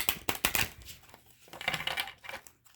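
Playing cards are shuffled close up in quick, crisp riffling bursts, then a pause and a second flurry of papery snaps and flutters, with no voice present.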